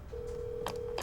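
An unmuted phone line on a call-in radio trivia show lets through a steady, flat electronic telephone tone, followed by two brief clicking bursts, faint and thin, with no talking.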